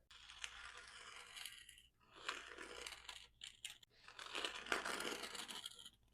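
A blade cuts skateboard grip tape on a Beetlejuice board, heard as close rasping, tearing strokes in three long passes separated by short pauses, with a few quick crisp snips between them.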